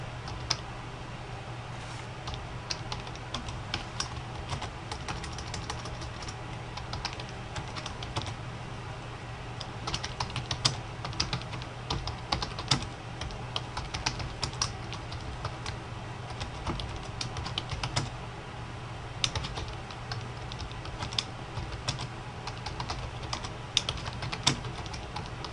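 Computer keyboard typing while replacing a graph title, a steady run of quiet, close, irregular key clicks throughout with no talking.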